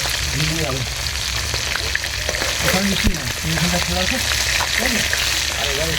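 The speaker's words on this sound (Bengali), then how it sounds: "এই ভাজা মাছগুলো নামিয়ে নিচ্ছি" Khoira fish fry in hot oil over a wood-fired stove, giving a steady, loud sizzle that runs throughout, with faint voice-like traces in the background.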